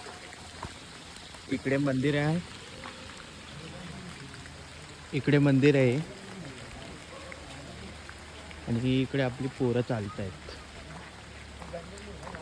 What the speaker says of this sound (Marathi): अरे यार पाऊस खूपच आलाय